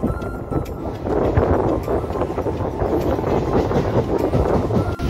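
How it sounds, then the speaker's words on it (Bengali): Passenger train running at speed near 100 on the Siliguri line, heard from inside as a steady loud rumble with rhythmic clatter and wind rush throughout. "তো গাড়ির ট্রেনটার স্পিড দেওয়া শুরু হয়ে গেছে, প্রায় 100 কাছাকাছি চলবে।"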